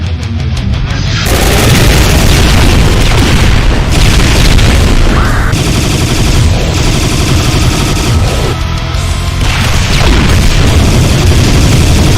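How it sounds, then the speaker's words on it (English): Doom mod monster, the Vexed Nemesis Revenant, firing a 360-degree barrage of bouncing plasma cannonballs in a video game, a dense, loud, continuous roar of booms and rapid blasts layered over one another without pause. "Firing the Vexed Nemesis Revenant's 360 spread barrage of plasmatic bouncing cannonball"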